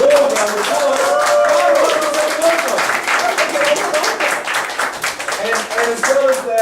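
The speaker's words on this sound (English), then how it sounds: "give her another warm round of applause" A warm round of applause for a presenter at an English teachers' conference in Busan, with continuous, fairly loud clapping from a large audience and voices mixed in throughout.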